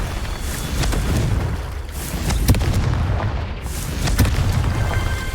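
Confringo explosive spells blasting repeatedly in Hogwarts Legacy, a series of deep booming bursts at intervals over a dense rumbling game background, loud and close.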